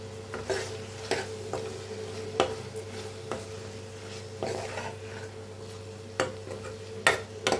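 Dry fish curry frying in a pan with chili powder, a spoon scraping and stirring in irregular taps over a low steady sizzle and hum, close up.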